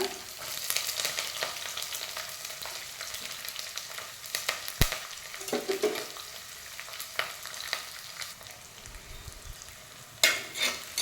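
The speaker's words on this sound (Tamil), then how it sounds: "இந்த டைமில் 2 காஞ்ச மிளகா, கருவேப்பிலை, சின்ன வெங்காயம் தான் நிறையா போடணும்" Dried red chillies, curry leaves and small shallots sizzle and spatter in hot oil for an Onam dish, with steady frying noise, occasional stirring scrapes and a few sharp pops, close and alone without talk.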